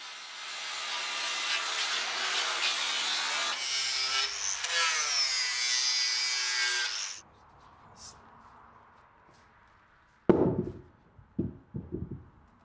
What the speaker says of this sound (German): Und das Dach wird auch noch mit der Flex verschönert.